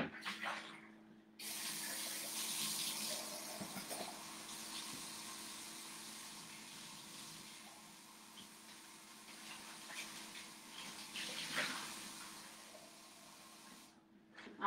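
A tap runs steadily, filling a container with clean water for rinsing paint brushes, a continuous close hiss of flowing water that starts abruptly and stops after about thirteen seconds, with no talking.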